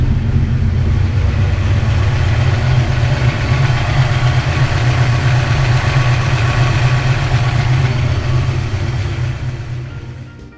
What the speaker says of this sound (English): The fans won't turn off.